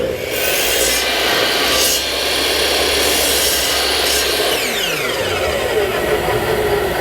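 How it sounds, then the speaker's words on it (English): A miter saw cuts a wooden rocking horse body block, its loud, steady whine holding throughout before the blade spins down toward the end. "I just like to clean these up on the miter saw"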